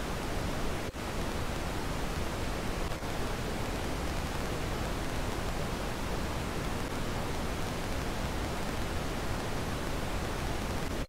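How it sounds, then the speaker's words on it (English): A played test signal of pink noise mixed with impulses gives a steady, loud broadband hiss throughout, with a couple of sharp clicks early on. "So it basically sounds like pink noise being mashed up with impulses."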